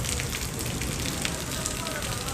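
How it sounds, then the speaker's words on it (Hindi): Heavy rain pouring down outdoors near a flooding stream, a steady, loud, dense hiss of drops on surfaces throughout. "बारिश बहुत तेज है"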